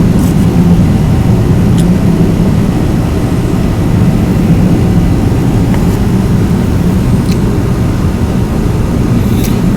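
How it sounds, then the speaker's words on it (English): A loud airplane passes overhead outdoors, a steady broadband engine roar filling the whole stretch without letting up, with no voices over it. "I might pause while this plane go by because it's loud as fuck."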